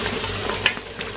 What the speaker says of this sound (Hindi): गोश्त भी भुन गया, मसाले भी भुने हुए।